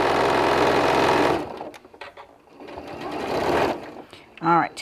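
A sewing machine stitches fabric for an ice cream cozy, a fast mechanical whirr running loud for over a second, then pausing, with a short burst near the end and a person talking in between.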